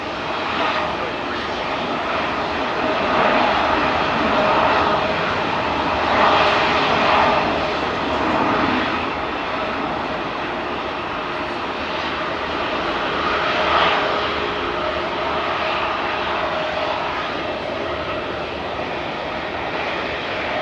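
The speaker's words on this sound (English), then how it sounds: "this 320 here on screen that's currently pushing back" An Airbus A320 airliner pushing back at Melbourne Airport gives a steady, loud engine roar and whine that holds for the whole stretch, with outdoor airport ambience around it.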